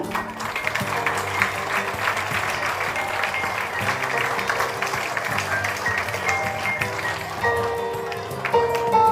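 An audience in a school hall applauds at a teacher's retirement ceremony, with sustained, even clapping from many hands for about nine seconds and faint background music underneath.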